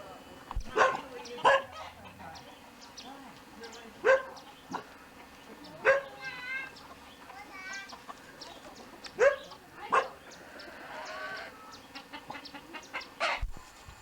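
Dogs bark in short separate bursts amid a rooster's crowing and hen clucks, all fairly close in an open outdoor street in Mexico.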